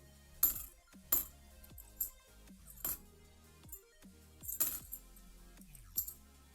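Coins are handled while coin roll hunting, with a series of sharp metallic clinks and drops in an uneven rhythm, close up and fairly quiet. No one talks.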